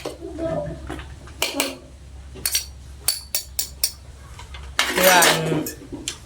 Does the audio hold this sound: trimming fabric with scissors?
no